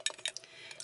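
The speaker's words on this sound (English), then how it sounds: "I'm going to get the lid and the ring out." Metal canning jar lid and ring being picked up and handled, a few small light clinks and scrapes close by, quiet and brief.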